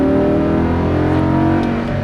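A Lamborghini Huracan LP610-4 roars loudly at full throttle on a track, its close, steady engine note holding strong and unbroken with no talking.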